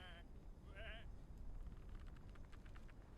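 Sheep bleat in the video game Whateverland, two short wavering calls close by at the start, followed by a low rumbling ambience and faint clicking under it.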